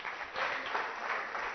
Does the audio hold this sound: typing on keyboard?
no